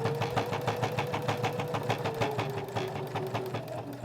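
A domestic sewing machine stitches forward and back through fabric on a pouch project, a loud close mechanical whirr with rapid regular needle clatter running continuously, no talking.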